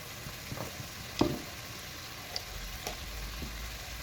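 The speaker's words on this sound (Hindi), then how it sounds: "अब इसको मज़ीद 3-4 मिनट और फ्राई करेंगे" Frozen meat frying in a pan with yogurt, with a soft steady sizzle under a few light stirring scrapes and one sharper clack near the middle, close and fairly quiet with no talking.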